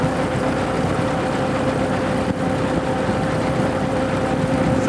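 A 1915 Hispano Suiza car powered by an 18.5-liter World War I V8 aircraft engine runs just off idle, a steady, loud, low rumble held without a break throughout.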